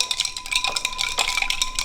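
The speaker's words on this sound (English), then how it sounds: "I can stir that puppy up just to cool it even more." A spoon stirs cold coffee with ice in a glass, giving quick, bright, irregular clinks and rattles close by.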